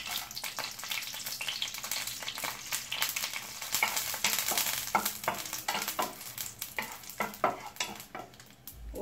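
A green chili frying in two spoons of oil in a kadai gives a soft, continuous sizzle and crackle. Light stirring scrapes sound at intervals throughout, close but quiet.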